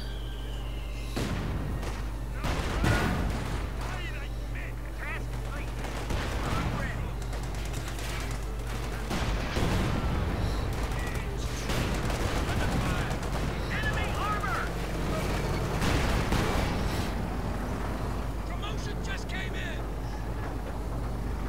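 Machine gun and other gunfire from a Company of Heroes 2 battle with British forces in a 2v2 match, bursts of shots and booms recurring throughout under steady game noise while someone talks over it.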